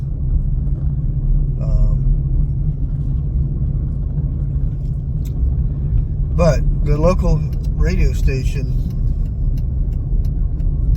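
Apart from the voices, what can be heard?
car driving past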